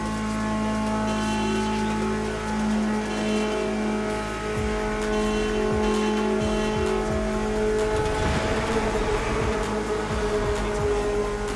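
A BMW E30 on the roads of Maui in The Crew Motorfest, its engine droning steadily and then revving hard, with tyre squeal near the end. The car sounds close and loud.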